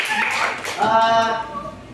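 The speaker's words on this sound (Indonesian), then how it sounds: "tepuk tangan untuk teman-teman" A burst of group clapping in a classroom lesson, fairly close, with a voice talking over and after it.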